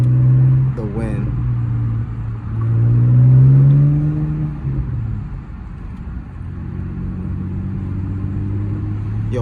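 A BMW E82 with a muffler delete cruises at night with the windows down and the sunroof off. Its loud, droning exhaust swells under light throttle and eases off, with wind rush and voices inside the cabin.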